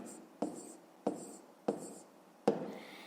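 A pen writes a decimal fraction on paper in a quiet room, making four short, sharp taps and scratches spaced roughly half a second apart at close range.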